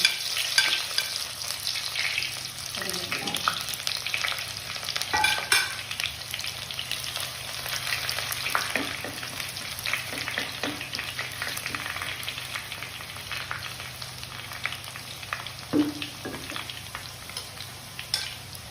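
Steady oil sizzle as chopped small onions and fenugreek seeds fry, crackling throughout, plus occasional scrapes and stirring knocks from a utensil in a pan.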